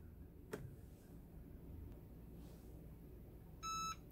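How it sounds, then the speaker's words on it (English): A short electronic beep from a Cricut EasyPress 2 heat press as its timer finishes sounds near the end, a bright steady tone lasting under half a second, after quiet background hiss and a single click. "It beeps when it's done."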